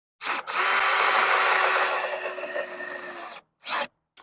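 A power drill drives lag bolts into wall studs in one loud, sustained whirring grind of about three seconds, followed by two brief short bursts, close and alone.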